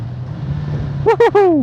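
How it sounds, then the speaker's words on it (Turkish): A 2025 Honda CBR650R with E-Clutch idles with a low steady hum, then gives three quick, loud throttle blips close by as it downshifts. "Yani hafifçe gaz veriyorum. Aynı anda vitesi düşürüyorum."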